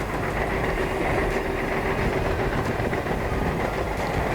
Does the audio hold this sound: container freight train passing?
yes